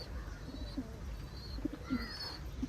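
Soft, low pigeon coos come in a few short, scattered bursts over a steady hiss of outdoor background noise.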